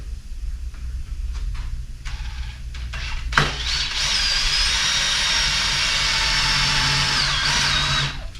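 A drill boring holes in a small chimney piece, starting with a few short taps and bursts, then settling into a loud sustained whining run for several seconds before stopping.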